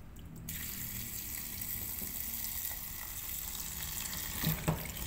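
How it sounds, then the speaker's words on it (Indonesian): Bitter gourd is washed under a running kitchen tap, a steady close rush of water into a sink with a few brief clunks and splashes near the end, no talking. "Dan ini dicuci bersih."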